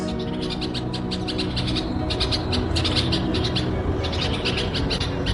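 Small birds near a window, alarmed by a person close to their young, give rapid repeated chirps in quick bursts over a steady low background hum, fairly near and clear.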